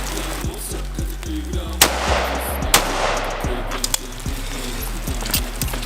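An SKS rifle fires a run of sharp, evenly spaced shots, more than a dozen in a quick steady rhythm, each cracking loudly above a low, constant background hum.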